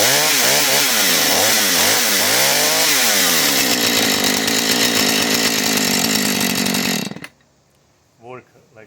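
A Husqvarna 435 chainsaw, freshly fitted with a new bar and chain, starts and revs up and down in loud, close surges before holding a high whine, then cuts off abruptly, followed by faint handling noise.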